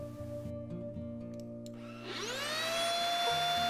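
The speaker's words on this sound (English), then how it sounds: "Powering the vacuum is easy." An Alfawise cordless vacuum cleaner powering on, its motor winding up into a loud, steady high whine with a rising pitch that settles into a constant close-up drone.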